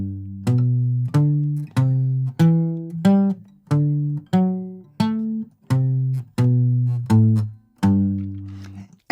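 Guitar muted strum exercise on the bass strings, about eleven evenly spaced strums that each ring briefly and fade, played alone.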